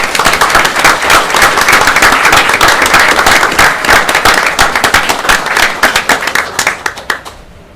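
A council meeting audience in Bloomingdale Borough gives a round of applause, loud close clapping that holds steady and then thins into scattered claps as it dies away.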